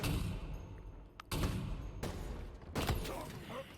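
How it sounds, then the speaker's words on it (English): Loud gunfire bursts from a sniper rifle in a Halo free-for-all match, three sharp broadband cracks spaced about a second apart over continuous game noise. "Tat is sniped by his closest competitor, MVP."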